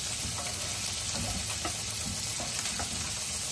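Onions, dried red chillies and cumin frying in oil in a pan for tomato pickle, giving a steady, close hiss of sizzling with faint scattered crackles throughout and no talking.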